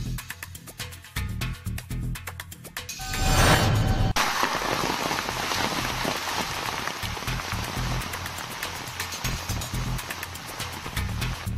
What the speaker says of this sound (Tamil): நெல்லை மாவட்டம் ராதாபுரம் சுற்றுவட்டார பகுதிகளில் ஒரு மணி நேரத்திற்கும் மேலாக கனமழை பெய்தது.